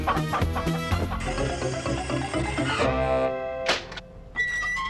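Chicken clucking over a funky musical tune, with short repeated clucks worked into the rhythmic music and a few louder squawks near the end, fairly close.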